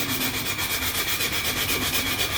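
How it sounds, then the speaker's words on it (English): Continuous close rasp of hand sanding wood on a Dalek model, an even rhythmic rubbing with quick repeated strokes and no voices. "Just give a good old sanding. I'm going to sand this"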